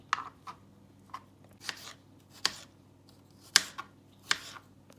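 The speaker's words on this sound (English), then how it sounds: "then I'll cut them back into small cubes" A knife cuts chicken strips into small cubes on a board, a series of quiet, crisp, evenly spaced chops and taps close by, with no talk.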